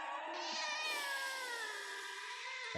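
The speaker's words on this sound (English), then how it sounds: "After this cat noise." A drawn-out, heavily reverberant cat meow with long rising and falling tones, sustained and loud, echoing throughout.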